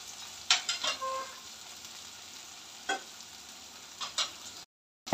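Vegetables and Maggi noodles sautéed in oil, a faint steady sizzle broken by a few sharp spatula scrapes and clinks, close by and quiet, ending in a brief silence.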